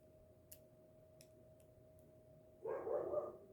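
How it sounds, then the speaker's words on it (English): A dog barks outside a house, a short burst of a few muffled barks near the end, fairly distant, following faint ticking and a steady low hum in an otherwise quiet room. "I was trying to figure out why the dog just kept barking."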